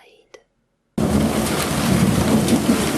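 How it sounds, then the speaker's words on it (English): Thunder from a rainstorm, a brief faint crack followed by silence, then a sudden loud roaring rumble that continues steadily with heavy rain noise throughout. "Thunder"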